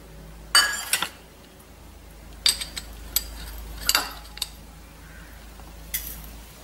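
A spoon stirring coffee with warm water in a glass for cold coffee, heard as a few sharp clinks against the glass, spaced irregularly over a quiet background.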